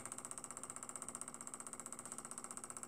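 A homemade Stirling engine built with a test tube held in a brass cylinder runs steadily, giving a fast, even train of faint mechanical ticks with no talking.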